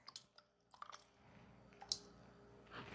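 A person chews food that may contain small hard bits, giving sparse soft squishy bites and crunches close to the mic with long quiet gaps between them.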